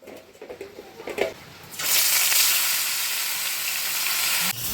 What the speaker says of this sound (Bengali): এদিকে আমি মশলা কষাচ্ছি